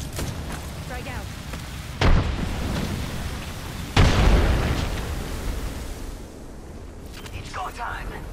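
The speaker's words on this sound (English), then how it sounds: "Throwing thermite grenade" A thermite grenade detonates in Apex Legends, two heavy booming bursts a couple of seconds apart, loud and close, over a continuous roar of gunfire and game noise while a voice talks throughout.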